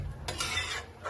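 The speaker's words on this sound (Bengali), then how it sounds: "ডিম দিয়ে ভালো করে নাড়াচাড়া করে নিতে হবে।" Egg and potato curry being stirred in a pan, a steady scraping and rubbing of a spoon against the metal in a few close strokes, with faint sizzling underneath.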